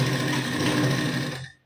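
Domestic sewing machine stitching along a quarter-inch folded blouse hem, a steady close whirring drone with fine rapid needle ticking that runs continuously, then stops.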